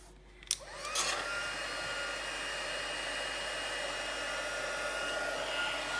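A heat tool on its second setting melts copper embossing powder into Versamark ink, switching on after a brief click and then blowing with a steady, close, even whir like a hair dryer, alone without talk.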